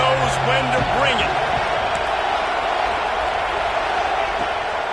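A college football stadium crowd roars late in a tight first half, a dense, loud, sustained wall of cheering with brief tonal shouts near the start.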